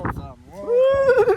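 Horse neighing close by in a Kazakhstan desert setting, a harmonic whinny that rises and wavers for most of a second, with brief voices and mixed talk around it.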